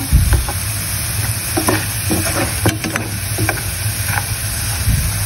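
Chili peppers frying and being stirred in a pan of lightly salted oil, a steady close sizzle with scattered scraping and clinking of the utensil, no talk over it.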